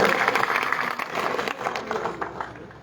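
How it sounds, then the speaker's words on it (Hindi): A crowd at a BJP joining event in Bhirani applauds loudly to welcome a politician, with dense, continuous clapping that swells and eases slightly over its length. "इनके जोरदार तालियों के साथ इनका स्वागत है।"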